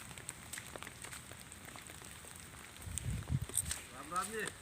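Heavy rain pouring down during a rural farmers' outdoor gathering, a faint steady patter with a few louder splashes and low rumbles near the end, with no one talking.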